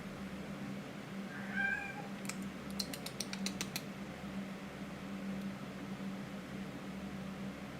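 A pet cat named Coco gives a short, faint meow or two at mid-distance over a steady low household hum, with light clicking in the background.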